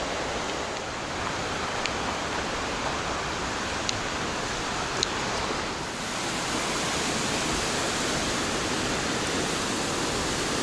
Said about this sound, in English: you can already start to see the falls, and it's pretty spectacular